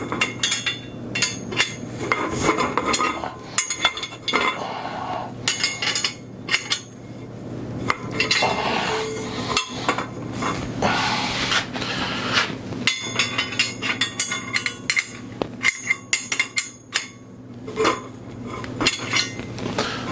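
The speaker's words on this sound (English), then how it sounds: "Let me tighten these up a little bit more." Bolts are tightened on a folding work table, with irregular metallic clanks, clinks and ratchety rattles of tools against metal parts, close by with uneven pauses.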